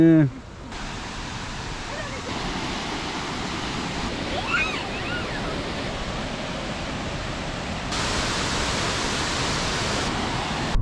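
A steady, broad roar of Tortum Waterfall in Erzurum, Turkey, fills the scene throughout, with brief voices faintly audible near the start and middle.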